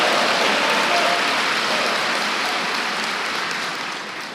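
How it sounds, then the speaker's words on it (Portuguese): A church congregation gives sustained applause, a thick wash of many hands clapping that fills the space evenly and then tapers slightly toward the end, with faint voices underneath. "Dá uma salva de palmas ao Senhor"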